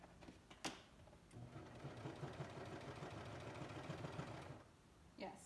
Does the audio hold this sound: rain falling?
no